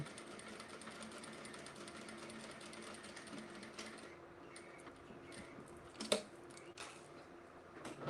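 A sewing machine runs steadily, stitching down both sides of a backpack strap with a fast even whir and needle clatter, close and faint, briefly pausing with a sharp click before resuming.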